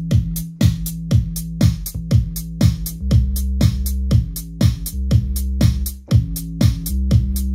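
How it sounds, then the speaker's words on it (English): Repeating keyboard bass line with a bit of sub bass, a steady pulse of short punchy notes over a sustained low drone, loud and close with no talking. "bass sound basically sounds something like this"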